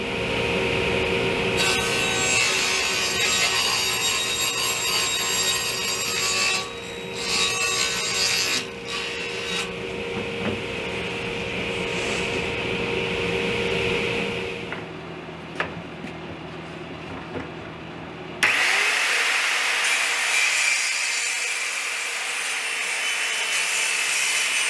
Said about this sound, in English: So now I'm going to cut the plywood for the bottom of the shelf of the unit.